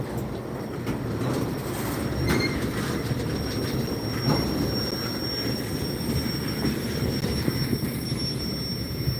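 A southbound Norfolk Southern freight train rolls steadily past a crossing, its auto racks, including BNSF cars, and tank cars producing continuous heavy rumble and clatter with occasional wheel squeal, loud and close throughout.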